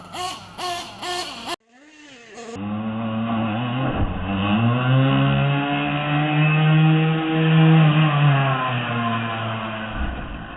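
A nitro RC car engine revs hard in a sustained, buzzing high-pitched whine that holds steady for about eight seconds after a short burst of louder sounds at the start, close and loud with no talking.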